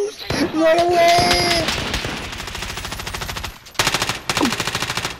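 Rapid bursts of automatic gunfire ring out in a squad-based online shooter game, loud and close, with further clusters of shots following; players shout briefly over the firing.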